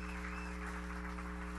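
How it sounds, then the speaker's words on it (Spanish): A congregation applauds a young man at a church service, a steady, dense clapping that continues evenly throughout over a low, constant hum. "dale un aplauso a ese joven"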